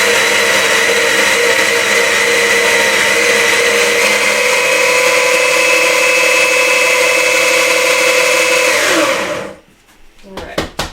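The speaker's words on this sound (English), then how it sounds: "I love this grinder so much. This is the Baratza Sete 270." A Baratza Sette 270 coffee grinder runs loudly and steadily on an extra-fine setting, a dense whirring drone that holds for about nine seconds, then winds down and stops, leaving a few small clicks.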